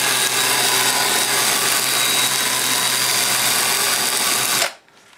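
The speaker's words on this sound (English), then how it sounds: "So I'm going to use the Sandiflex, and I have 100 grit on that." Sandiflex block with 100 grit worked by hand against a big wood burl on a lathe, a steady dense abrasive rasp held at constant loudness for several seconds, then cutting off abruptly near the end.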